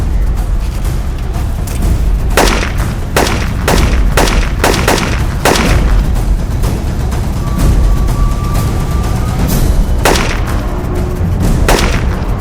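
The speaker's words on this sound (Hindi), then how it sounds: "अरे मैं कवर फायर करता हूँ" Repeated gunshots ring out in a police shootout, sharp cracks at irregular intervals over a steady noisy background, fairly loud and close, with no talk.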